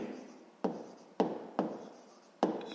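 Pen strokes scratch across paper while divisors of 16 are written out for a sixth-grade maths exercise, coming in close, distinct bursts with brief pauses between them.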